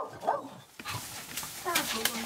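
Dogs whimper and give short barks at close range, mixed with nearby talking.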